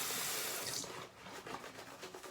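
Tap water runs into a sink ahead of a winter wet shave, a steady broadband splash that eases after about a second into softer, uneven trickling and dripping.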